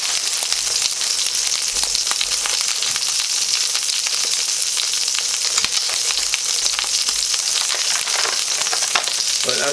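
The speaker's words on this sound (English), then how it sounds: "So what I'm going to do is I'm going to brown this." A chuck roast browns in a hot pan with loud, steady, crackling sizzle that continues without a break, heard close up with no talking.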